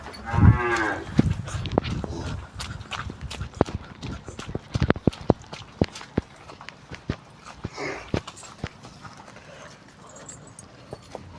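A cow being led into its shed moos loudly once at the start, then its hooves clop and scuff unevenly on the ground for several seconds. A second, fainter low call comes near the end.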